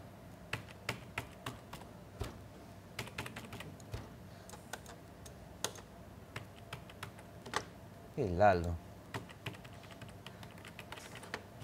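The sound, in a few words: typing on a computer keyboard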